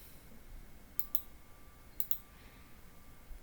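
Keys pressed on a graphing calculator while entering a quadratic function: two pairs of crisp, quiet plastic clicks about a second apart over faint room hiss.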